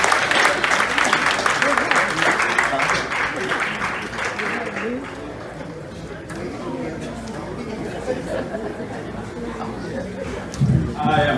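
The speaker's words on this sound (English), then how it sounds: "Give him a round of applause." A crowd at an honoring evening applauds Mr. Vernell Glasper, with loud, dense clapping mixed with chatter and some chuckles that thin out toward the end.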